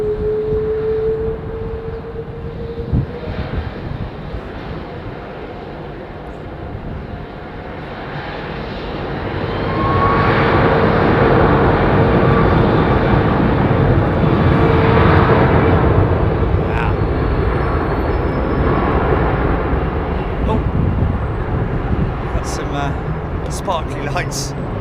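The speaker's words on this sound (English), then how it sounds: "This big 200 powered by Rolls-Royce headed out to Doha." A Rolls-Royce powered Boeing 777-200 departs London Heathrow for Doha, its engine roar building partway through to a loud, sustained rumble, with a voice talking over it at times.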